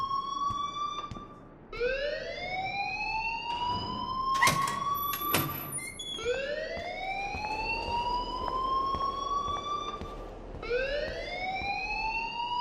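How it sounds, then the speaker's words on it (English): Rising-and-falling electronic school alarm wailing in the video game Life is Strange, repeating in long upward sweeps with brief sharper electronic tones in between, loud and continuous. "please turn off that alarm since that's your job"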